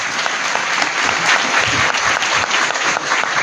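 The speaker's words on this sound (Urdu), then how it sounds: "آپ کو خدا کے رحم کا اتوار بھی بہت بہت مبارک ہو، بھرپور تالیوں کے ساتھ۔" Church congregation applauding loudly during Sunday Mass at St. Joseph's Parish, Gujranwala, a dense continuous burst of clapping close by, with no talk over it.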